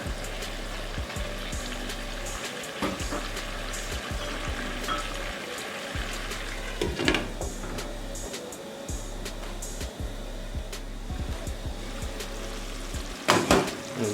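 Water poured into a hot pan of brown stew fish, a steady frying sizzle with bubbling, clinks of a utensil stirring against the pan, and a few louder scrapes.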